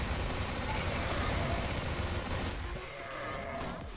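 Gunfire in a CrossFire zombie map, a dense continuous fusillade of rapid shots that fills most of the stretch and then thins slightly toward the end, loud and close.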